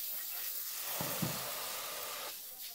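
Chopped vegetables braise in a saucepan with a little added water, making a steady close hiss and sizzle with a couple of soft stirring knocks.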